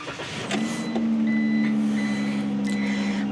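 A 2022 Ram Promaster van's engine cranks and catches near the start, then settles into a steady, close idle hum with a faint chime or beep heard intermittently over it.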